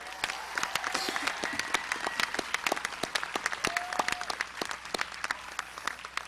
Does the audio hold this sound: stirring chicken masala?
no